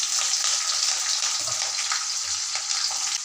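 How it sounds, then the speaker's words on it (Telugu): Peanuts, garlic and green chilies frying in oil make a loud, continuous crackling sizzle close by, with light stirring and no speech. "మిర్చీలు ఫ్రై అయినాయి మంచిగా"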